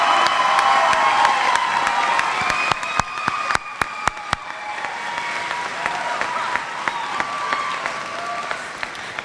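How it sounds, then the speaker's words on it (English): A graduation audience gives sustained applause for valedictorians and salutatorians, a dense crowd clapping with a few sharp louder claps and some cheering, gradually thinning toward the end. "Please give them another rousing round of applause."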